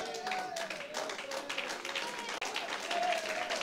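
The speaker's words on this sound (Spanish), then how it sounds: "El aplauso es raquítico" Thin, scattered applause from a church congregation during a sermon, steady and fairly faint, with a voice carrying faintly over the top.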